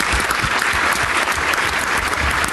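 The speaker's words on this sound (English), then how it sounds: "Round of applause for Jeremy and Hebo Power." Audience at the 2013 ARPA-E Energy Innovation Summit pitching session clapping in a steady, dense round of applause that continues evenly throughout without pause.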